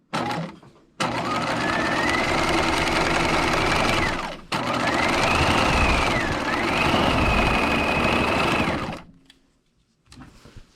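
A sewing machine stitches around the neckline of a swing coat in two long, steady runs with a brief stop between them, loud and close, with rising and falling motor whine.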